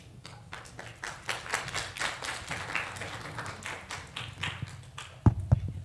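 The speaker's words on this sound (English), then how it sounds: "That was worthy of an applause," Scattered audience clapping after a community health lecture on stroke, uneven and moderately close, building in a loose rhythm before ending with a couple of louder, nearer claps.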